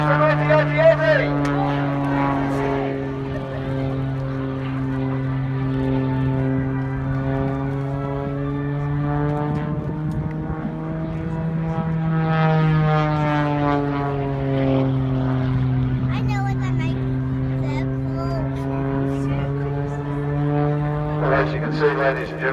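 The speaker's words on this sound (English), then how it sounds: "that parachute is not a parachute. It's actually a paraplane." A powered paraplane engine drones steadily overhead at an air show, a continuous propeller hum with slowly shifting pitch that holds loud for the whole stretch, with a voice talking faintly underneath.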